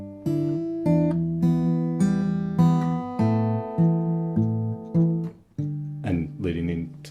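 Acoustic guitar fingerpicked in Travis style, carrying the Danny Boy melody over an alternating bass line; clear, close plucked notes ring out one after another in a steady, unhurried phrase with no talking.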